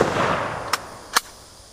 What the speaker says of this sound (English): I'm going to fire this thing and eject it as hard as I can and see how far I can make it fly.